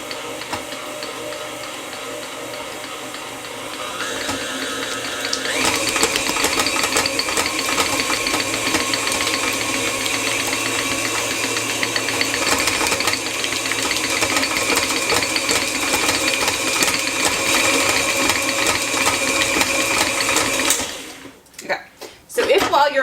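A stand mixer with a dough hook kneads cold chocolate babka dough, giving a continuous close mechanical whirring and rattling that builds after a few seconds and runs steadily before stopping, with speech faintly underneath.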